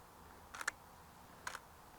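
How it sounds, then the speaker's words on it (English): Two slow camera shutter clicks about a second apart, each a soft double snap, close and faint over quiet outdoor ambience in an autumn woodland with light rain. "As you can hear, the shutter's quite slow because of my aperture."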